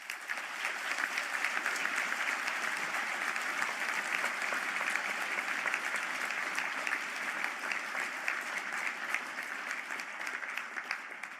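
A large audience gives sustained, even applause for computing and digital media graduates at a Galway conferring ceremony, a dense wash of clapping that holds steady throughout with no pauses.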